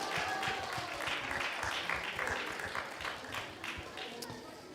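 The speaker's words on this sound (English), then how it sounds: "the only ones that were clapping are the ones that we paid" Audience at a Gaura Purnima and Holika Dahan celebration at Bhaktivedanta Manor gives scattered, fairly faint applause, a thin patter of clapping that carries on behind a talking voice.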